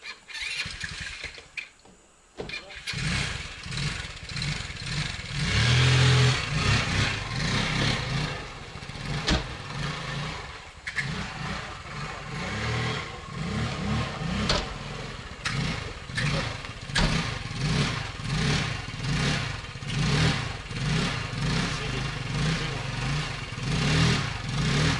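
A moped engine cranks after a short silence, catches, then revs repeatedly in uneven bursts over a steady idle, loud and close with no talking.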